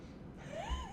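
A house cat named Winter gives a short, soft meow, a single rising-and-falling call at moderate distance in a quiet indoor room.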